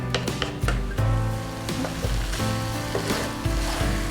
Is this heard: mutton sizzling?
yes